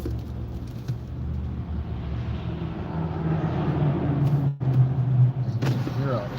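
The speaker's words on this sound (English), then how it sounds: "And you can hear all this traffic." Road traffic rushes past during a drive in bad weather, a steady loud roar with a few sharper passing swells, heard continuously from close by.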